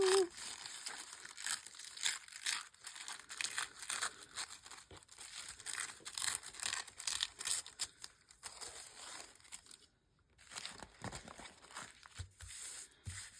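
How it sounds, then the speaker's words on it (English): Tissue paper being torn back against a sheet of paper, a series of soft close crinkling and tearing rustles with a brief pause near the end. "is use the paper to tear the tissue back, like so."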